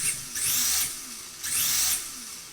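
A D10 RC motor driven forward by an XD10 ESC on a trigger pull gives two bursts of high whirring that rise, hold steady and then spin down, heard close up with no talking.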